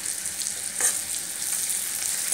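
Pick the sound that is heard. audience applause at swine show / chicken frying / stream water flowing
chicken frying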